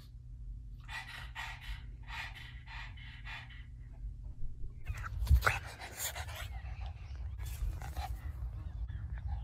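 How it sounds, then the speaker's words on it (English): A pug pants in rapid, rhythmic bursts close up, followed by snuffling breaths and grunts against a low background hum. "Panting."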